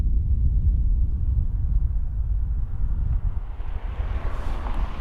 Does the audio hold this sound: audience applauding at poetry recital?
no